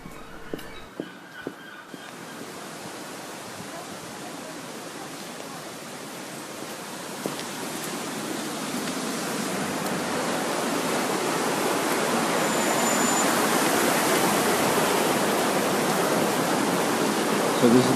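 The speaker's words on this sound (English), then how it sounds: "So this is the River Sid, and it's flowing too strongly for people to be able to use the ford today" The River Sid rushes strongly over a ford in Sidmouth, a broad, steady roar of fast water that swells louder over the course of the clip, heard close with no voices.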